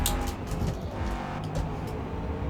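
A race car strains around the Spa circuit while running low on fuel, its engine a steady, continuous drone heard from a distance with no voices over it.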